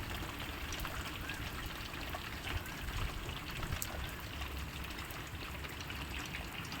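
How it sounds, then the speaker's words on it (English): Rain falls steadily on a vegetable garden, a continuous even hiss and patter of drops with no voices, holding at a moderate level throughout. "See, my vegetables are also having a rain bath."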